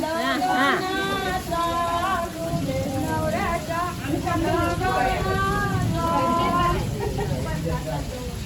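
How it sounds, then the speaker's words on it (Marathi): Steady heavy May rain in Konkan hisses across the whole stretch while people talk over it and a vehicle engine hums underneath. "जोरदार जोरदार पाऊस येलेला आहे."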